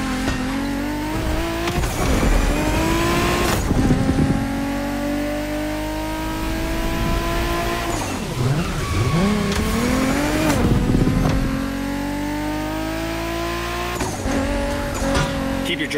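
A car driving in the racing game The Crew Motorfest, engine revving up and down with gear shifts, a sharp rise and dip in pitch midway, and brief tire squeals, loud and continuous.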